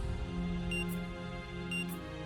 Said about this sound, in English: A strange beeping sound began echoing through the stairwell.